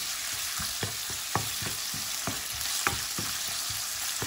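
Chicken pieces fry in a pan over very high heat, a steady dense sizzle broken by repeated sharp scrapes and clicks of stirring, close and fairly loud with no talking.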